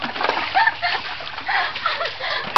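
Water splashing and sloshing in flood water, with uneven splashes continuing steadily at close range throughout.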